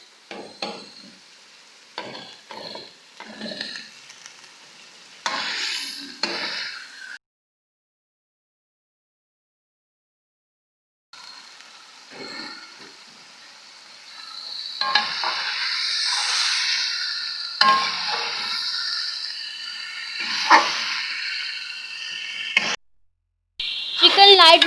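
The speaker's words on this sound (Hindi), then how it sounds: "अब हम चिकन डाल देंगे।" Chicken frying for degi-style haleem, stirred in a pot: intermittent scraping and clattering strokes over a steady sizzle, close by, with a silent break midway before louder, fuller frying resumes.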